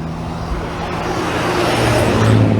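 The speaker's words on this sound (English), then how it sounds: "One of our electric buses, nice and quiet. All you're hearing is suspension." Electric bus drives by on a busy road in Barbados, nearly engine-free, with a rising whoosh of tires and rumbling suspension noise growing louder as it approaches.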